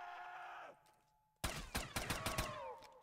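Automatic Wolverine's Might gun in a Call of Duty custom zombies map firing a burst of loud, evenly spaced shots at a slow rate, after a quieter stretch of game ambience.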